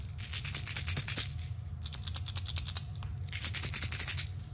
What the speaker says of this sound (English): your normal rattles just have a much higher kind of a frequency versus a two tap, a little bit of a duller sound